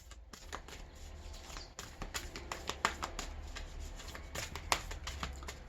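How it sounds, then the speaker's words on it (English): Moon Oracle cards shuffled by hand for a Taurus Full Moon reading, giving a steady papery riffle with scattered sharp taps and flicks, quiet and close, with no talking. "I'm going to pull Moon Oracle cards for us."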